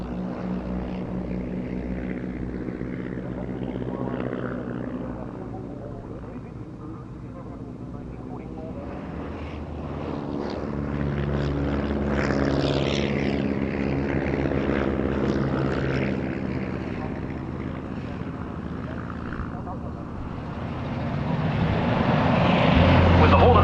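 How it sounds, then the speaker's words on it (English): Vintage Hornet Moth and Leopard Moth propeller planes fly at the Duxford Battle of Britain Airshow, their piston engines droning steadily under a commentator's voice. The engine sound swells as a plane passes nearer and grows loudest toward the end. "And the Leopard Moth downwind to land."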